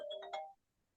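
A phone ringtone sounds during a regular council meeting, a short melodic burst of chiming tones lasting about half a second, then fading into near silence in a quiet room.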